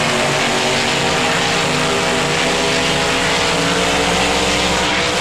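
Two monster trucks race in the BeamNG video game, their engines giving a loud, sustained, droning roar under steady power that never lets up, with no talk heard.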